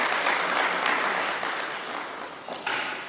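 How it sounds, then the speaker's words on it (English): An audience at a public launch of a draft bill gives a hearty round of clapping, a loud, close, dense burst of many hands that stays strong for about three seconds with slight dips. "Aurelia, just a hearty clap for Aurelia"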